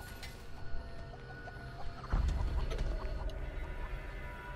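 Chickens cluck in a horror video game, repeated short clucks over a steady game background, with a louder rumbling thump partway through.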